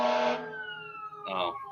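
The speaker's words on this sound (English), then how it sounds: "there is sirens that just drove by my apartment" Emergency vehicle sirens passing outside an apartment, a steady wail that fades away after the first moment and then swells briefly again, heard faintly in the background.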